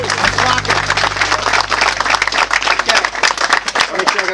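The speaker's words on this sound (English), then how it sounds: "can I give a round of applause for Mr." Crowd at a skate ledge event clapping and cheering in bursts, irregular hand claps close by mixed with voices and shouts, with a low hum under the first part.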